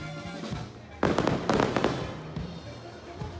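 Fireworks burst at nightfall in Oaxaca, Mexico: a loud cluster of crackling explosions erupts and fades over a few seconds above a steady murmur of background music and crowd.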